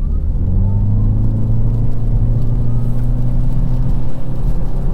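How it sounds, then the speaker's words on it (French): A Toyota Corolla Hybrid accelerates at full throttle in B mode. The engine gives a loud, sustained drone close by, and its low pitch climbs smoothly under the continuously variable transmission without gear shifts. "Donc là je suis en mode B et je vais accélérer à fond."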